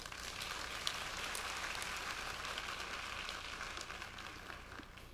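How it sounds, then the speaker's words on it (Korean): Audience applause at a Korean science lecture hall, a dense steady wash of many hands clapping at an even level throughout, with no voices over it. "박수 부탁드립니다."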